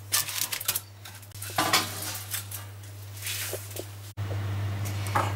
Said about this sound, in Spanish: Los sacamos del horno y los vamos a desmoldar.